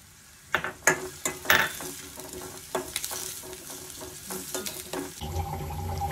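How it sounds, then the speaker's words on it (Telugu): Onions fry in a pan for Telangana-style masala eggplant curry, giving a soft sizzle broken by sharp, irregular clacks of a spoon stirring, close-up, followed by a steadier hiss. "ఉల్లిపాయలు వేసుకొని దీన్ని మంచి గోల్డెన్ కలర్లో వచ్చే వరకు మగ్గబెట్టుకోవాలండి"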